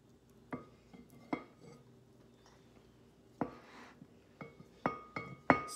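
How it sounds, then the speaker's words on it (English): A spoon scrapes and clinks against a pot while a pre-pasta snack is stirred, giving sparse metallic taps that grow louder and closer together toward the end. "Eliza decided it needed some last minute stirring"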